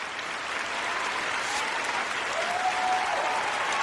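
Steady, full audience applause after an interview, a dense wash of clapping from a crowd that holds an even level throughout, with a brief whoop near the end.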